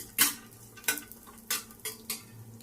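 Dry fruits roasting in ghee in a pan for a vermicelli dish, stirred with a utensil: five distinct scraping strokes at a steady rhythm over a low hum, close and fairly loud, with no talking.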